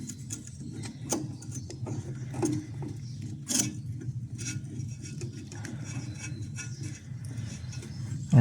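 A fitting on a drinking fountain is tightened by hand: irregular clicks, ticks and small metallic knocks sound close by over a low background hum, with no one speaking.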